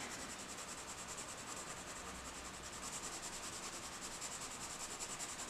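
A Derwent Prima colored pencil scratching across paper, a faint, continuous dry rasping with a quick rhythmic stroking texture, close up and quiet, nobody talking.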